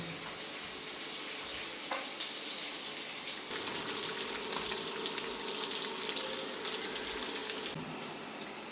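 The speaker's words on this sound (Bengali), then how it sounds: "আমি আস্তে আস্তে এগুলিকে একটু ভেজে নেব।" Eggs fry gently in a pan with potato and eggplant cooking, producing a soft, steady crackling sizzle with faint spitting bursts, quiet and without talk.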